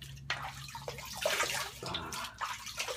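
Tap water runs and splashes in a bathroom sink during rinsing after a shave, a continuous close gush with some shifting splashes as hands move through the stream.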